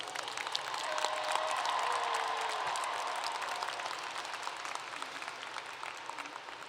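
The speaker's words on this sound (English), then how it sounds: "Give them a round of applause this morning" A large crowd at the James Bowie High School graduation applauds to welcome the graduating seniors, a broad wash of clapping that swells and then slowly fades, with a few faint voices and whistles.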